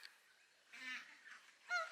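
Geese honk in a few short, nasal calls spaced across a brief moment, fairly faint and moderately distant, with no talking.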